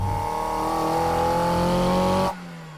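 A Toyota 4AGE engine fitted with intake trumpets revs hard and holds a loud, rising high-rpm tone close by, then abruptly cuts off near the end, with no talk.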